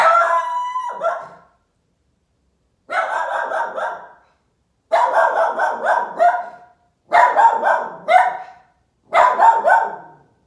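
A dog barking in repeated bursts of rapid howling barks separated by short pauses, loud and close, five bouts with no talk over them.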